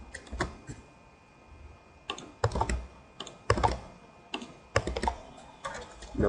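Fingers type on a computer keyboard in short bursts of quick, crisp key clicks, close and fairly loud, separated by brief pauses.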